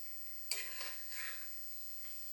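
Food in a frying pan is stirred with a few soft scrapes and a light sizzle, quiet and brief with no talk.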